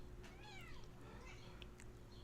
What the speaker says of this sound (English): Yes, kitty. Yeah, you meowing?